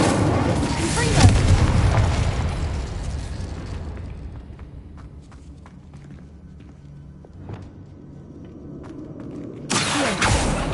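Loud explosive blast of the Confringo fire spell in Hogwarts Legacy gameplay, a heavy boom that decays into scattered pops and crackles, followed by a second burst near the end.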